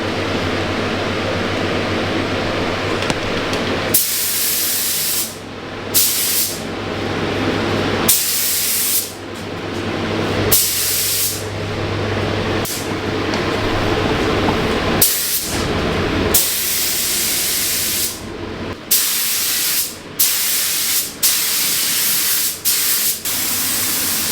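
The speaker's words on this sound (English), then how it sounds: "So obviously spraying's the fun bit, so we're doing it fair and taking turns." Repeated bursts of spray paint hissing from an aerosol can, each lasting a few seconds with short pauses between, close and loud over a steady low hum.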